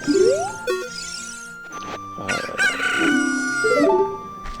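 A chicken crows in The Legend of Zelda: Ocarina of Time, giving a bright, synthetic cock-a-doodle-doo among chiming game jingles and tones, loud and close without any talking.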